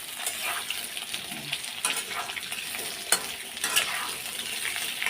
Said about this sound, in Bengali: দেখো আলুগুলো সব দিয়ে দিলাম, এখন আগে আলুগুলো ভেজে নেব।